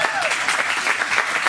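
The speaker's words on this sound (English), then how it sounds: "So let's give Rich a round of applause." An audience at a presentation on California real estate investing gives a round of applause, with steady dense clapping from a room full of people throughout.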